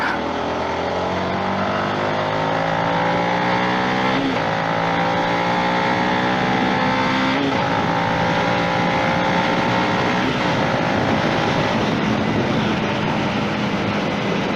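A motorcycle engine revs and accelerates through several gear shifts, its pitch climbing again after each change, loud and close throughout.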